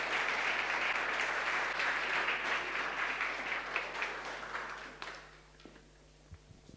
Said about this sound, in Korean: 우리 목사님 박수로 우리 맞도록 하겠습니다.